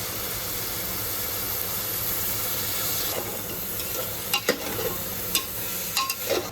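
Ingredients for a misal stirred and sautéed in a pan in a home kitchen, a soft continuous sizzle under sharp clinks and scrapes of a spoon that grow busier toward the end, close and quiet.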